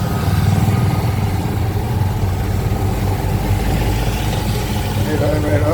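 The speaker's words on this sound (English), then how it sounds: "this is what I'm looking at through the motorcycle sidecar" A motorcycle sidecar taxi riding through the streets of Tagbilaran, Bohol, in the Philippines, a steady close engine drone with road noise and no break throughout.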